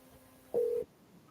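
A single telephone tone on a cold sales call in a real estate office, one steady beep lasting about a quarter second, moderately loud over a faint background hum with no talking.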